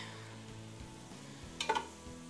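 Sizzling meat frying in a pot, a steady low hiss with a brief louder crackle and stir partway through, fairly quiet and close.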